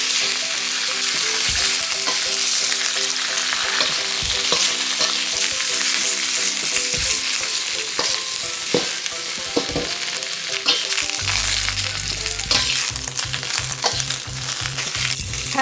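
Cabbage sizzles loudly in a hot wok with garlic while a utensil scrapes and tosses it, with sharp clanks and steady hissing throughout.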